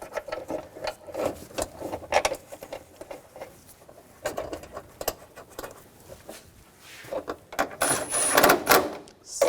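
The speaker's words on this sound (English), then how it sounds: "Get the bolts started." Bolts are threaded in and snugged down on the auxiliary water pump of a 2000-2006 BMW X5 3.0L inline-six, with irregular close ratchet clicks, taps and metallic rattles through the stretch and a brief high squeak near the end.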